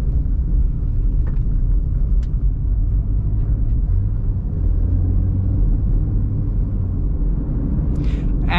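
A Maruti Swift automatic moving through market traffic gives a constant low road-and-engine rumble inside the cabin, steady throughout with a few faint outside noises and no talking.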